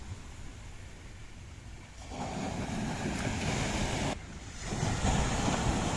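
Rough sea waves roaring and crashing on a beach in light rain, a continuous loud broadband wash that surges louder in two pushes, with wind buffeting and no talk.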